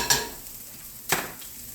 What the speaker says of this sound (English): Okay, so I got my onions going here.